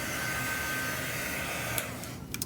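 Handheld two-speed craft drying tool blowing air, a loud steady whooshing hum that runs continuously and then cuts off near the end, with no talking.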